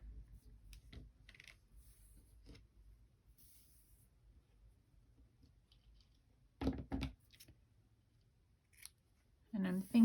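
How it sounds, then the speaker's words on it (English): Scissors snipping ribbon strips on a diagonal for a tassel, a few quiet isolated cuts with two louder close snips near the end, in a quiet room. "I'm going to go ahead and cut them on a diagonal"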